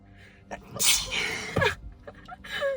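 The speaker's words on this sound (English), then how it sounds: "trust me to sneeze right in the middle of a video" A single close, sharp sneeze with a quick inhaled buildup, followed by a brief breathy exhale.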